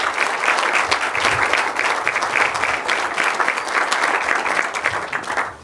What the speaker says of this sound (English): Again, an applause for all of our gracious donors.